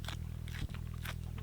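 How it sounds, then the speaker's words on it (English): Raw purslane, a thick, succulent garden weed, is bitten with a single crisp crunch, faint and close, over a steady low hum, with no talking. "A certain thickness to it and crunch where when I eat purslane"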